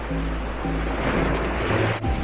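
Sea waves wash steadily onto the shore at a Kuşadası beach beside a seaside holiday site, a continuous close surf rush with low rumble throughout.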